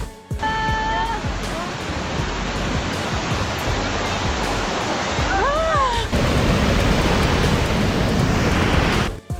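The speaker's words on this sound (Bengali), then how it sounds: "এই বিরল সুনামি ক্যামেরায় ধরা পড়ে, যা ছিল গ্রিনল্যান্ডের একটি সমুদ্র সৈকতের কাছে।" Surging sea water at a beach in Greenland during a rare tsunami, a loud, continuous roar of rushing waves that fills the whole stretch without a break.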